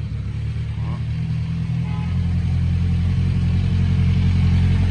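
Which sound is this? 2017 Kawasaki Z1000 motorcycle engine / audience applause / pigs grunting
2017 Kawasaki Z1000 motorcycle engine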